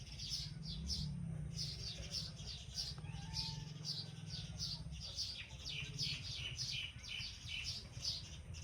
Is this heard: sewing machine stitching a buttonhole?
no